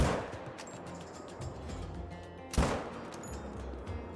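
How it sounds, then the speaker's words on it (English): Rifle shots while hunting in Call of the Wild, two sharp cracks with the second louder and reverberating over quiet outdoor ambience. "Let's hope that second shot will connect good."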